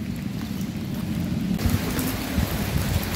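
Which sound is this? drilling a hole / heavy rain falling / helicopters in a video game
heavy rain falling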